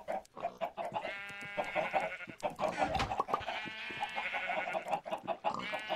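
Minecraft farm animals, pigs, sheep and cows, bleating and grunting in a busy overlapping chorus, with repeated animal calls layered together at moderate loudness and no clear talk.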